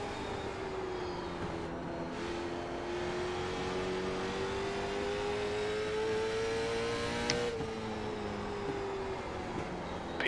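A late model race car on track at South Boston, a steady engine drone at speed whose pitch slowly rises and dips, with another car passing, heard continuously without talk.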